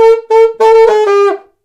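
An alto saxophone plays a short, bright, staccato run of notes from the brass part of a song, several clipped blasts followed by a sustained note that fades out, solo and close.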